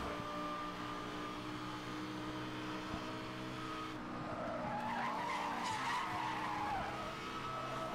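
Lamborghini in a Need for Speed street race, with a steady engine drone and tire squeal and skidding rising midway, racing sounds at moderate level.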